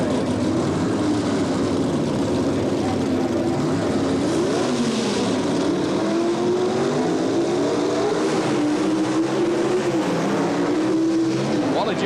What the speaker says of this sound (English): 438 cubic inch big block Chevy Camaro, Richard Oakes, against Wally Jacobson